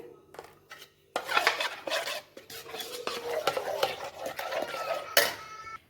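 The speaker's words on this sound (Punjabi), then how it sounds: "ਗਰਮ ਮਸਾਲਾ ਇਸ ਵਿੱਚ ਹੀ ਧਨੀਆ ਪਾਊਡਰ ਹੈ ਥੋੜਾ ਜਿਹਾ ਹਲਦੀ ਪਾਊਡਰ ਇਸ ਨੂੰ ਚੰਗੀ ਤਰ੍ਹਾਂ ਮਿਕਸ ਕਰਾਂਗੇ" A spoon stirs garam masala, coriander and turmeric powder together in a dish, giving soft scraping and light clinking at close range over a few seconds.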